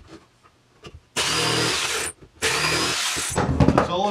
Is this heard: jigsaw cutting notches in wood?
yes